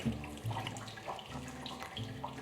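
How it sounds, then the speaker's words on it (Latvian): Liquid beer mash pours through a strainer and trickles steadily, a close, continuous splashing drain with no talking. "Tāpēc ņemam caurduri un gāžam iekšā visu to putriņu."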